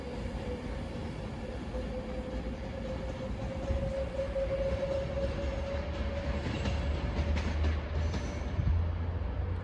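Train passing through Stoke-on-Trent station on a service to London Euston, a steady loud rumble of wheels and engine with a sustained tonal whine that swells slightly toward the end, no talk.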